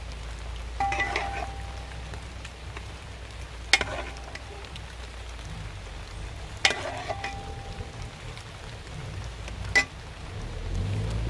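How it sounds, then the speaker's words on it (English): Steady rain patters outdoors as a constant soft hiss, with a few sharp knocks or clunks breaking through at intervals. "as you can see, it's raining."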